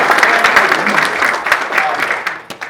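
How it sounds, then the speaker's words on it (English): Applause from an audience, steady and dense clapping that holds throughout before thinning slightly at the end. "Everybody, round of applause for David."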